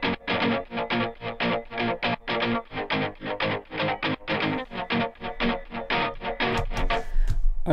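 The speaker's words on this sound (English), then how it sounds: "It's the session guitarist Electric Mint, and I've got the muted melody section on, so that means like the muted notes." A muted electric rock guitar melody from the Kontakt Session Guitarist Electric Mint library, close and loud, its short palm-muted notes plucked in a quick, steady rhythm.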